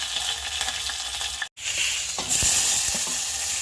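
Urad dal, garlic, curry leaves and dry chillies fry in hot oil with a close, steady crackling sizzle that cuts out briefly, then returns brighter with a few stirring clinks.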